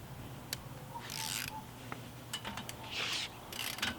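A torque wrench tightens the wheel nuts on a widebody Ford Focus ST, giving a few short close ratcheting clicks and metallic rasps in separate bursts over a low background hum.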